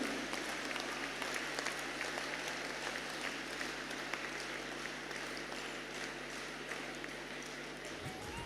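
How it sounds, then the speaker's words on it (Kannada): An audience applauds at the closing ceremony of a Dharmasthala bhajan workshop, a faint, steady patter of many hands clapping that continues without a break. "ಚಪ್ಪಾಳೆ"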